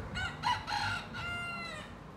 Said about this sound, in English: and of course, cock-a-doodle doing.